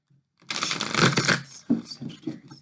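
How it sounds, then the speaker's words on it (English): Oracle cards are shuffled close up, with a quick riffling burst followed by a few softer slaps and shuffles, no talking. "let's just get some of these oracle cards on it"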